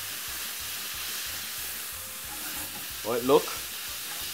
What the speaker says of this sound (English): Stir fry up the pork, that's the first thing you wanna do.